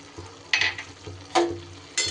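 Gourd curry with soaked chickpeas and turmeric stirred in a pan, giving a soft sizzle broken by three short scraping strokes of a spoon, close and moderately loud.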